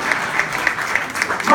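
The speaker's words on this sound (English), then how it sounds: "Clap for that." Comedy club audience breaking into applause, a short burst of clapping under a murmur of crowd voices, fairly loud and close.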